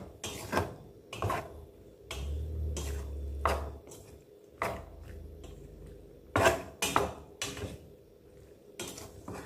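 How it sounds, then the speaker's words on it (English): Pasta being stirred in a pan with a utensil, giving a series of sharp scraping clinks and knocks at irregular intervals over a low hum. "I'm going to stir this well so that the mixture coats the pasta very well"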